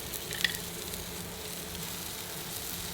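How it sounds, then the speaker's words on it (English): Steak sizzles and fries on a Blackstone griddle with balsamic, giving a steady, loud hiss of spattering fat that holds close and constant throughout. "we're going in with the steak"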